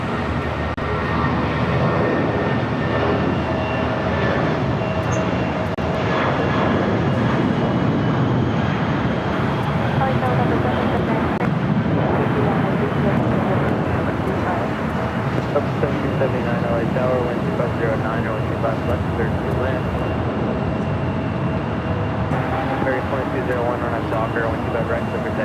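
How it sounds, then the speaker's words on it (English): A steady, loud roar of airliner jet engines at LAX airport fills the whole stretch, broad and continuous with a faint steady whine. "Virgin Atlantic Flight 8 heading over here for a Southside takeoff."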